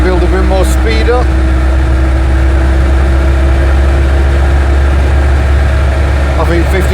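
An Invacar three-wheeler with drum brakes climbing an uphill road in the Elan Valley, its engine a steady, close, low drone throughout, with brief voice-like sounds near the start and end.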